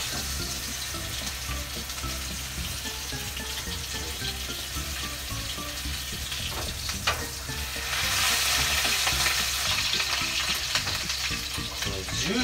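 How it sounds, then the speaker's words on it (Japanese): Steak frying in a pan gives a continuous close sizzle that swells louder partway through, with a few light utensil clicks as the meat is turned. "ジュージューいってますね。"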